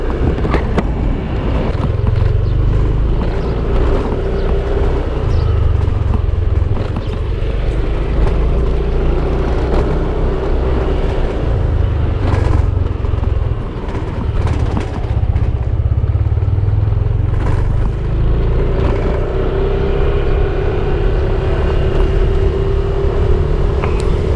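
Riding a GPX Demon GR200R two-valve motorcycle gives a loud, continuous engine drone with road rumble and wind at close range, holding steady for the whole stretch with only slight changes in pitch, no voices.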